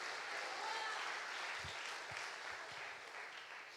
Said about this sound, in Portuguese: As palmas para ele.